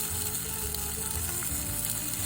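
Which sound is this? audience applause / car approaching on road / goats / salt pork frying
salt pork frying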